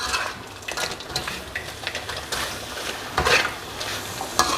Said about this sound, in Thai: แล้วก็เคาๆให้เข้ากันนะครับ พยายามคลุกให้เข้ากันนะครับ